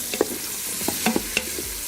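Pre-cooked Philly cheesesteak meat warming in a pan, a soft sizzle under a few sharp scrapes and taps of a utensil stirring it, close and brief, with no talking.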